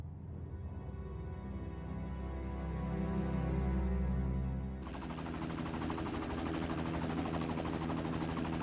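Helicopter in the video game Ephemeral, a steady close rotor drone with deep low thumping that swells briefly, then switches abruptly to a brighter, busier whirring engine roar with gunfire-like rattle, no voices.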